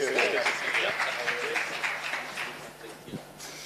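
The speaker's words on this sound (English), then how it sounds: "A big round of applause for them." An audience applauds the panelists at a book launch, a moderate wash of clapping that fades gradually while voices carry over it.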